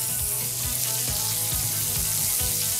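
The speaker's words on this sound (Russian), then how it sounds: "Далее наклоните сковороду, чтобы филе хорошо прожарилось." Chicken fillet fries in a tilted pan with a loud, steady, close sizzle and crackle that runs without a break, with no voices.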